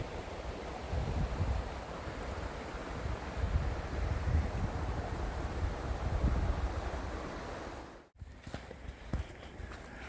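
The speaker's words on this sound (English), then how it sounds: "I'm walking along this small river here." A small river, Cedar Creek, flows steadily through woods as a constant broadband rush during a short hike, with footsteps crunching along the bank before the sound cuts out briefly near the end.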